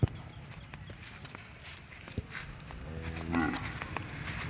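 A calm cow at a farm gives a single low, drawn-out moo near the end, over steady background hiss and faint shuffling movement, with no talking.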